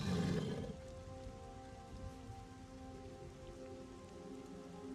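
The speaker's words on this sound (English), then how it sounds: "one thing I mentioned like a few months ago is the rain effects" Steady rainfall patters on surfaces in the Monsters & Memories video game, a constant close wash of drops with a louder burst at the very start, no voices.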